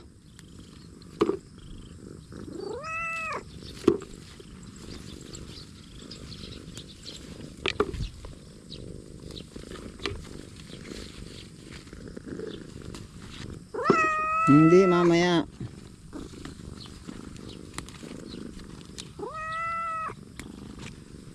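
A cat meows three times, drawn-out rising cries spaced well apart, over a soft rustling background while a person speaks a few quiet words.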